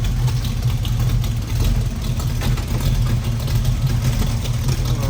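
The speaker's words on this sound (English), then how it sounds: "Now listen to the exhaust idling here." A 1967 Chevrolet Camaro's 327 V8 idles steadily through its exhaust with a deep, low rumble and a slight lope, close by and continuous with no voices.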